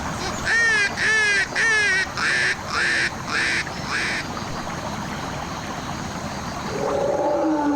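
A duck under attack by four captive Amur tiger cubs in northeast China gives a rapid series of about seven loud, nasal quacks. Steady background noise follows the quacks.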